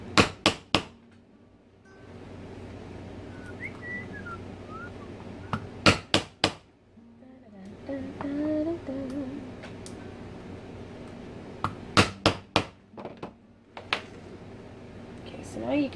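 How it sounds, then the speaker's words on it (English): Sharp clustered hammer blows on a rivet setter set rivets for cosplay pauldrons, arriving in bursts of two to four loud close strikes separated by quieter stretches with faint background sounds. "Position the concave side over the convex rivet and just whack the crap out of it."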